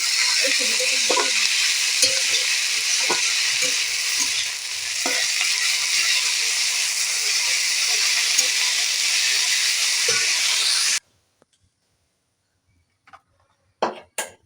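Whole spices tempering in hot oil for a spicy Bengali greens curry with peanuts: a loud, steady sizzle and hiss with occasional stirring clinks, then abrupt quiet with a few faint knocks at the end.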